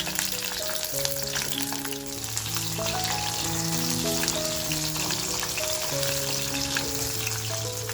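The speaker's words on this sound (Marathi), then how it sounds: "सिमला मिरची सुद्धा आपल्याला हलकीशी फ्राय करून घ्यायची" Capsicum fries in hot oil for a chicken kadai, making a dense, steady sizzle that runs throughout, with background music playing over it.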